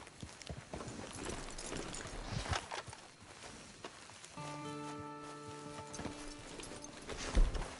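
Horse hooves clip-clop steadily in a video game over rustling ground noise. A soft sustained tone rises midway, and a louder hoof strike lands near the end.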